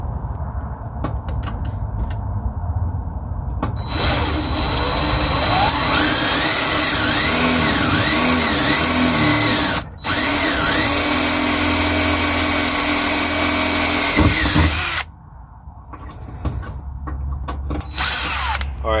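Power drill removing two bolts during a car audio install in a 1964 Impala SS, loud close whine rising and falling in pitch as the motor loads, running nearly continuously with one brief break and a short pause near the end.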